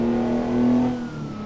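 A Mack R truck fitted with a two-stroke engine in American Truck Simulator revs steadily, its droning tone rising slightly then easing back, sustained and fairly loud for a moment with no talking.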